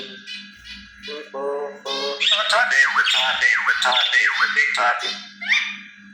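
A myna bird squawks and calls at close range in a burst of harsh, chattering notes and whistles, loud and continuous after a few short opening calls, with a voice briefly audible.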